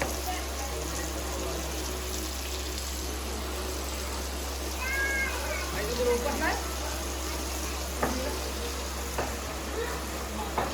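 Bagde fry in a farmhouse kitchen with a steady, low hiss of sizzling that runs throughout beneath a constant hum, while a cat meows briefly and people chat nearby.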